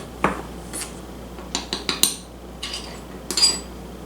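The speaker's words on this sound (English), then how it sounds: "let's whisk that together" A whisk stirs flour, baking soda and salt together in a bowl, giving faint, quick scraping and clinking taps in a few short clusters against a quiet background.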